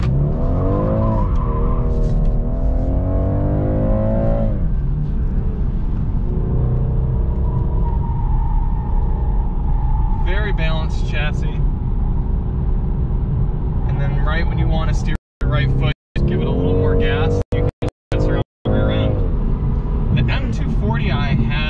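A 2022 BMW 230i driven hard, its engine roaring and rising through revs, with tire squeal and road rumble filling a loud, continuous stretch that cuts out briefly in a few places near the end.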